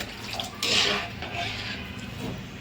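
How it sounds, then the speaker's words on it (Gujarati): Water poured from a glass into a cooking pan for Manchurian gravy: a splashing pour bursts in shortly after the start and runs on steadily for about two seconds. "આપણે 1/2 ગ્લાસ જેટલું પાણી નાખી દઈશું"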